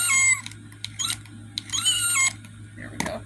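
Animated skeleton cat decoration giving synthetic, electronic meows in short repeated bursts, with clicks and mechanical noise between them and a low hum underneath.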